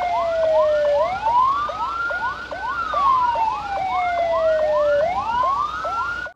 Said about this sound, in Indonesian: Ini ada lagi mobil ambulan, teman-teman. Wah, mobil ambulan